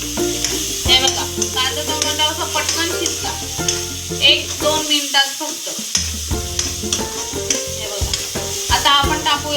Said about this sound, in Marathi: फ्राय करून आपण हा मसाला एकजीव करून घेऊ